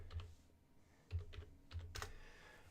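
Keys clatter on a computer keyboard in short, irregular bursts of typing, close and fairly quiet, with no voices.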